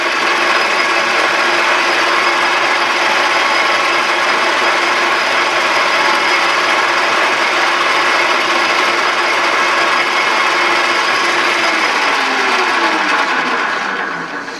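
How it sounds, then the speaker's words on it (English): Metal lathe taking light shaving cuts with a high-speed steel bit while making a compound screw on a South Bend lathe, a steady loud whirring drone with a fine mechanical chatter throughout, fading slightly at the end. "I called upon our old favorite, high-speed steel bit, and I'm just taking nice little shaving cuts"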